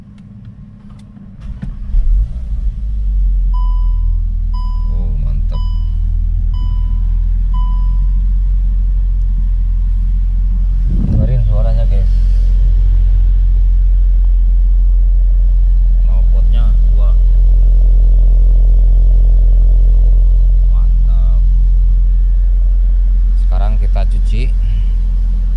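A new car's engine cranks over with the starter and catches, settling into a steady low idle rumble close by, with a few electronic beeps beforehand and people talking over it.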